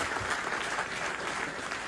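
An audience at a political gathering applauds, a dense steady burst of clapping from many hands that fills the whole short moment.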